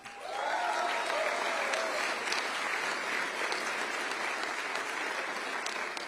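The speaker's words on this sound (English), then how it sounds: "You're gonna get to clap for Jason in 20 seconds." An audience at a formal announcement breaks into sustained applause, a dense, even wash of many hands clapping for several seconds with no speech over it.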